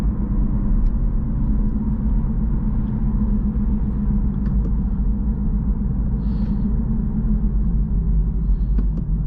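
Steady tire roar and low road rumble inside a 2023 Acura Integra A-Spec on the move, a constant droning hum with no talking and no breaks.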